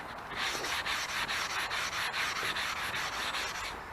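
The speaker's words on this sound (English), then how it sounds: "this is a regular sanding block, obviously already been used" A rusty barbell is sanded with a used sanding block, a steady close rasping rub in quick back-and-forth strokes, dense and continuous with no talk.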